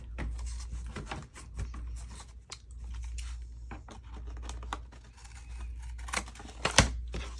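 Scissors cutting paper for a handmade journal, close irregular snips and rustles of paper being handled, quiet and intermittent with a few sharper cuts toward the end.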